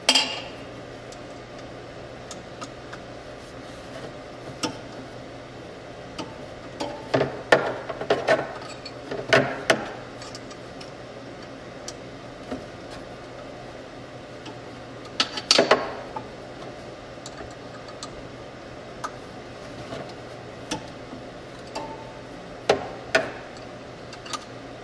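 An Allen wrench tightens a clutch bolt on a golf car fitted with a TEAM Industries clutch kit, making sparse close metallic clinks and ticks over a quiet background with no talking.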